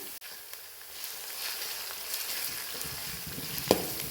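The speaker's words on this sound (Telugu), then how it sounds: "ఇప్పుడు ఈ ఆయిల్ బాగా హీట్ అయింది ఇందులో కచ్చపచ్చగా దంచి పెట్టుకున్న వెల్లుల్లి వేసుకుంటున్నాను కాస్త క్రష్ చేసి పెట్టుకున్న జీలకర్ర వేసుకుంటున్నాను" Coarsely crushed garlic and cumin frying in hot oil, a soft, steady sizzle close by with faint stirring scrapes and one sharp clink near the end, no voices.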